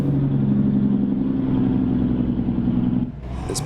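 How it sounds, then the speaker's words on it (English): An Iveco Stralis heavy-haul truck with a Cummins L10 engine in Euro Truck Simulator runs with its engine brake on, a steady loud low drone that holds for about three seconds and then drops away. "get on my engine brake again"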